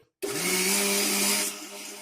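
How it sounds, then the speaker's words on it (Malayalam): An electric mixer grinder whirs loudly as it grinds coconut with a little water, starting abruptly after a brief silence, holding a steady high-pitched motor whine, then dropping to a lower hum near the end. "നമുക്ക് തേങ്ങ നന്നായി അരക്കാം ഇതില്"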